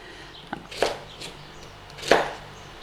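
Knife chops vegetables for a leek and potato pie: two or three sharp cuts against a board, close and fairly loud, spaced over a few seconds with quiet between.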